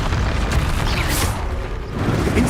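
An Expulso explosion spell in a Hogwarts video game lands as a loud, rumbling burst with a rolling roar that stays heavy for a couple of seconds.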